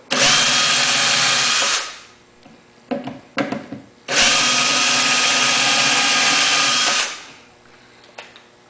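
A power drill with a Vix bit whines loudly in two long sustained bursts while drilling holes to mount drawer slides, separated by a brief pause with a few short clicks and rattles.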